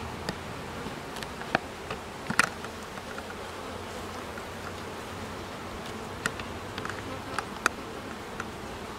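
Faint, steady buzzing from many honey bees close by at a hive, with scattered tiny clicks and ticks over a low hum.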